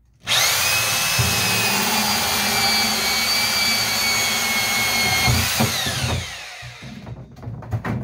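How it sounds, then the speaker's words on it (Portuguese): An electric drill bores holes in a disposable plastic jug, a loud, close, steady high whine sustained for about five seconds before spinning down, followed by faint handling clatter. "eu vou estar fazendo 5 furos aqui, 5 furos do outro lado e 2 furos do lado de cá"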